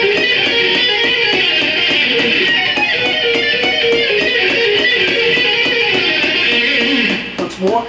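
Fast electric guitar arpeggios with down and pull picking locked to a click track, a dense rapid stream of bright notes played continuously and loud, cutting off abruptly at the end.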